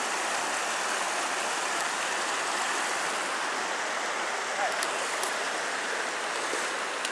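A brook flows at the meeting point of two streams in a gorge at Walton Glen, a steady, even rush of water that stays continuous and close throughout.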